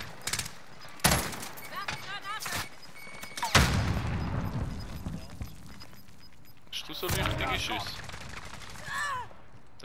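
Gunshots in the video game Call of Duty: sharp, loud single cracks and short bursts of gunfire scattered through the scene, mixed with game effects, with people talking in between.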